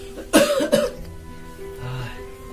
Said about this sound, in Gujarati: ઉધરસ વધારે આવે તમે?